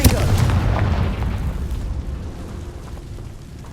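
In the Hogwarts Legacy video game, the Confringo blasting spell bursts in a loud, sharp explosion with a deep booming impact, then the rumble trails off and fades over the next few seconds.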